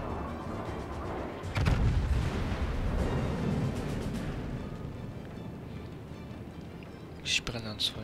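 Heavy booming naval artillery fire in World of Warships, a loud burst of cannon shots followed by rumbling, then another sharp blast near the end.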